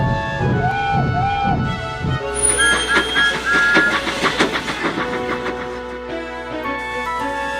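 Animated steam engines set off together with whistle toots, then roll on rails with a steady rhythmic clatter and wheel noise, over a background music score.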